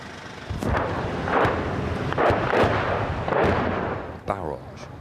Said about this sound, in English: A barrage of incoming shells land close by